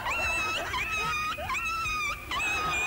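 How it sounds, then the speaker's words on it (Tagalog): A dog that was stepped on whimpers and cries in long, high, wavering wails, several drawn-out moans in a row, close and loud against a noisy room. "Ba't umiiyak yung aso?"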